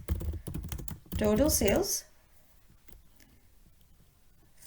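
Brief burst of keyboard typing while writing an SQL comment, close clicks at the start, then a stretch of speech, then near silence with faint clatter.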